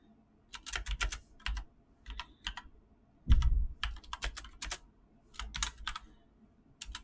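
Bursts of close computer keyboard typing as passwords are entered, irregular clusters of crisp key clicks separated by short pauses, with one heavier thump partway through.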